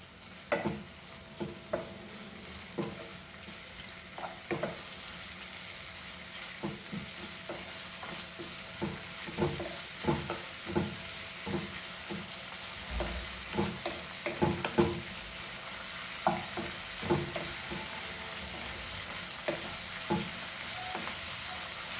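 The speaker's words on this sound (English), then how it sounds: "Now we'll add our tomatoes to this and fry." Tomatoes frying in a pan, a quiet continuous sizzle with regular scraping stirs repeating every second or so across a long stretch, close and fairly faint.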